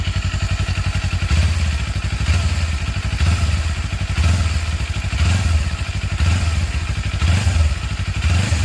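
Engine of a new Kawasaki Eliminator motorcycle revving up close: a steady, loud rhythmic thrum with repeated throttle blips roughly every second, no talking.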